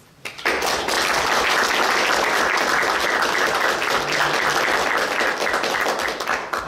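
Audience at a political town-hall event breaking into applause after a brief quiet start, a full steady round of clapping that holds at even loudness to the end.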